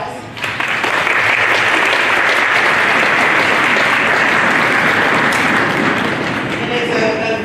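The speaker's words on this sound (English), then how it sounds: "So let's give them a round of applause" Loud, sustained audience applause for a third grade school orchestra, dense and even clapping that fills the room for over seven seconds with no break.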